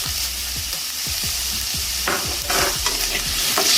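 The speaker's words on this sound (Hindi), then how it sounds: "इसे हल्का सा सौते करना है हमने।" Carrots, peas and sweet corn sautéing in a hot pan, with a steady sizzle of frying under repeated scraping stirs of a spoon, close and fairly loud.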